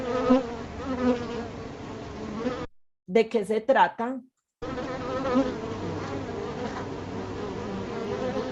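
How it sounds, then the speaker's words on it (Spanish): Bees buzz in a dense, continuous swarming drone that runs loudly for several seconds, breaks for a brief burst of a voice speaking, then resumes with the same steady hum. "Efectivamente son abejas"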